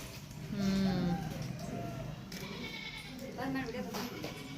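Several sheep and goats bleat near and far, with quieter voices chatting underneath.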